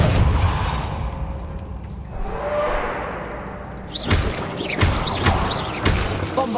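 The Depulso spell lands in Hogwarts Legacy, a whooshing burst followed by a string of heavy thuds and crashes, loud and close, with sharp hits repeating near the end.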